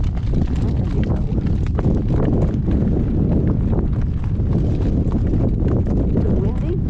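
Strong gusty wind buffets the microphone throughout a horse-drawn drive, a dense continuous roar with faint hoof clip-clop underneath and a voice speaking over it.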